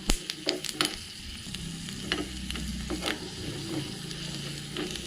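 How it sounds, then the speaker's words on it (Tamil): Lemon rice tempering frying in oil until golden brown while being stirred, a close steady sizzle punctuated by sharp spatula taps and scrapes on the pan. "நல்லா கோல்டன் ப்ரௌன் ஆகுற வரைக்கும் வறுத்துக்கோங்க"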